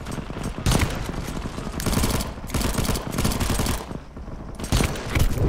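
Repeated rifle gunfire in a zombie survival game on a moving train, loud bursts of shots in uneven clusters with brief lulls between volleys.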